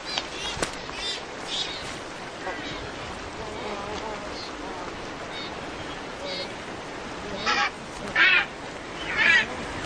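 Waved albatross on the Galapagos give honking, goose-like calls, loud close bursts near the end over a steady windy outdoor wash, with a narrator talking.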